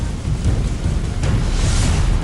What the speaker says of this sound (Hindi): बादलों की गड़गड़ाहट के साथ आसमान से बारिश की बूंदों ने जो गिरना शुरू किया